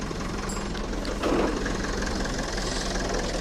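A tractor engine drives its PTO while hitched to a forestry winch, giving a steady, continuous low drone with a slight roughness that holds level and close throughout.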